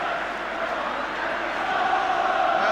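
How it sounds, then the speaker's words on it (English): Spurs fans at the 1983/84 UEFA Cup Final second leg against Anderlecht chanting for Danny Thomas, a steady roar of massed voices filling a large stadium, distant and unbroken. "The Spurs crowd are shouting there's only one Danny Thomas to keep his spirits up"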